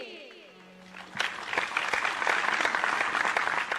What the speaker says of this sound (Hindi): मेरी आग्रह है कि तालियां रुकनी नहीं चाहिए